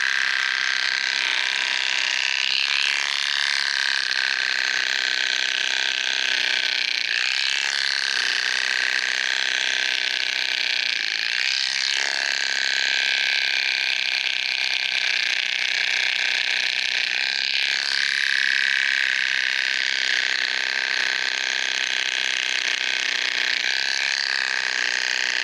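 Electric horse clippers buzz steadily and up close as they cut through a pony's dense, itchy mohawk mane, the high whirring motor continuous with slight changes in pitch and load as the blades push through the thick hair.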